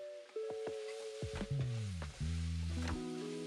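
Minced meat and diced tomatoes sizzle steadily in a hot pan while being stirred, a continuous frying crackle overlaid by scraping utensil strokes and some tonal kitchen clatter, with no talking.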